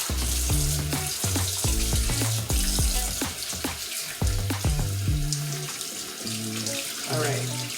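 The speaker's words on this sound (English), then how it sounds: "you want to make sure you wash out your sink with some water" Water runs steadily from a kitchen faucet into the sink, a continuous broad splashing rush with irregular clinks and knocks as the sink is rinsed out, close and fairly loud with no talking.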